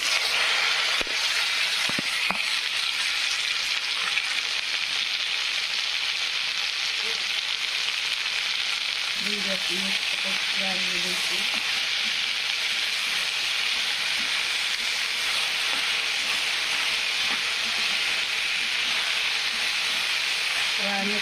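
Onion and okra frying in a pan at home, a steady moderate sizzle that runs through the whole stretch with a few soft utensil touches and no talk.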